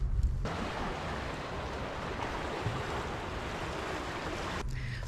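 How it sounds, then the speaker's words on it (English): Water of the Quinebaug River flows past fields in a continuous broad rushing wash, steady and fairly loud, mixed with wind buffeting the microphone, with no voices. "And at the end of the cornfields is the Quinebaug River."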